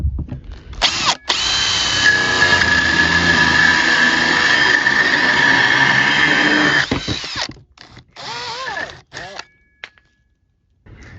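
A Milwaukee hole saw with a wood bit tip bores through wood under a power drill, one loud steady grinding whine lasting about six seconds, then short bursts and stuttering spins as it winds down and stops.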